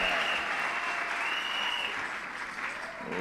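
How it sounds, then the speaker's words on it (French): Members of a church congregation applaud together in a sustained wash of clapping during a French and Lingala sermon, broad and steady with a faint tone running under it. "Applaudissez le Seigneur Jésus."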